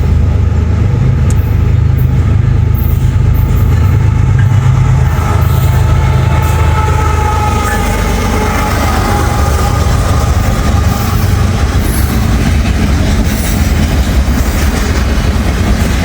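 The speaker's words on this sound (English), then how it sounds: "we got a Norfolk Southern train. Not a very long train." A short Norfolk Southern freight train rolls past close by in Glendale, a loud continuous rumble of cars over the rails with a low engine drone that fades partway through.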